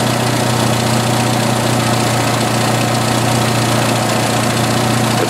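A 1986 Jeep XJ's 2.5L four-cylinder engine idles after a vacuum leak repair, a steady, even, close-up rumble with a constant low hum and no breaks, and no one speaking.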